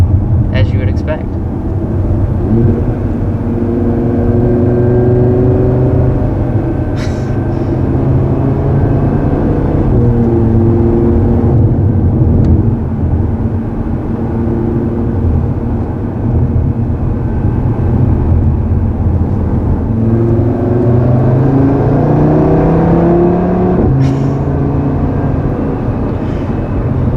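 A 2020 Audi TT RS five-cylinder engine pulls hard twice, its rising growl swelling over steady road rumble, with a person talking over much of it.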